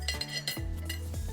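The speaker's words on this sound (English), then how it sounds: "It's the sound of plates and forks when you are eating." Plates and forks clinking during a meal, a few bright metallic chinks and scrapes of cutlery against dishes, close and fairly loud.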